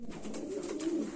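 Madras pigeons coo steadily in a low, throaty drone, a close pair of birds kept for sale, with swelling coos and no talk.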